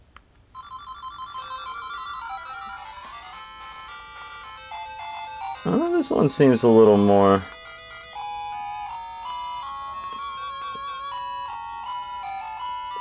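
Shining Force 2 game music on a Game Gear emulator running on a handheld, bright chiptune tones with sustained notes and a louder burst of rapid chirping effects midway, while someone talks over it briefly.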